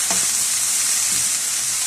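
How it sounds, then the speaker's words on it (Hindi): Vegetables for a chicken spring roll filling stirred and tossed together, a steady bright hiss-like rustle throughout with a couple of soft thuds, close and even. "इन सब सब्जियों को आपने अच्छी तरह से मिक्स कर लेना,"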